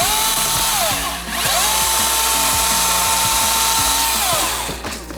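A Milwaukee 18V cordless top-handle chainsaw cuts wood, its steady high electric motor whine dipping twice as the chain bites under load, close and loud with no talking.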